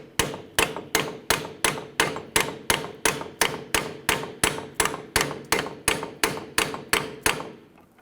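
A hammer strikes a bolt on a 2011-2021 Jeep Grand Cherokee front wheel hub, ringing out in about twenty sharp, evenly spaced metallic blows that come close, loud and steady, with each hit fading quickly before the next.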